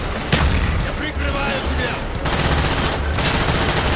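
Loud, dense machine gun fire in Call of Duty Black Ops, a continuous rattling barrage with a brief dip before resuming, over background battle noise.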